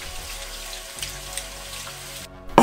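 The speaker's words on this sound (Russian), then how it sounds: "Промываем под потоком холодной воды." Cold water from a kitchen tap runs over cooked udon noodles in a sink, a soft, steady splashing stream that swells into a louder, closer gush at the very end.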